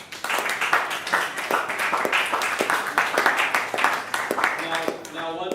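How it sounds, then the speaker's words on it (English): An audience applauds at a Malcolm X Day gathering in Atlanta, a dense, steady wash of many hands clapping that holds for several seconds before tapering at the end. "Let's give a round of applause for y'all."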